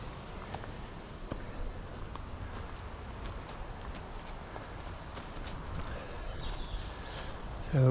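Footsteps of people walking through a jungle trail, a steady soft crunching shuffle over leaf litter and ground, moderately close, with faint background ambience and no talking.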